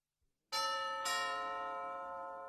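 A house doorbell rings on Halloween evening with two quick bright chime strikes that ring out and slowly fade, heard alone and fairly quiet.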